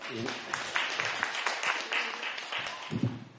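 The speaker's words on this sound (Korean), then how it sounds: "박수를 모시겠습니다" An audience at a discussion forum on the Hope Bus movement applauds, a dense patter of many hands clapping in a hall, with a voice briefly heard near the start and end.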